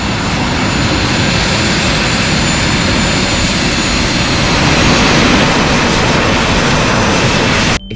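A jetpack engine roars loudly and steadily throughout its flight, a dense broadband blast that holds near and constant before cutting off abruptly at the very end.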